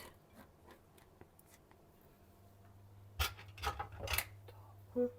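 Quiet scraping and rubbing of a utensil against a bowl as chocolate is stirred into cake batter, with a few louder clatters and scrapes near the end.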